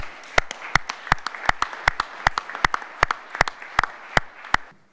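Applause from a small audience at a NATO Parliamentary Assembly spring session political committee meeting, offered to the conference interpreters: a dozen or so sharp, distinct claps in an uneven rhythm, close and fairly loud, with no talking.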